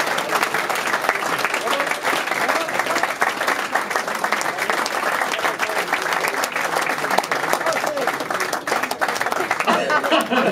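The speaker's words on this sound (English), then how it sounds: "Give them a huge round of applause." A crowd gives sustained, loud applause at a Hall of Fame induction ceremony, dense clapping running steadily throughout with a few chuckles and voices mixed in.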